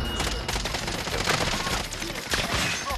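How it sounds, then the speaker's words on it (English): Dense, continuous automatic gunfire in the shooter game Warzone, loud rapid overlapping bursts filling the whole stretch with clattering shots. "Other people are shooting him."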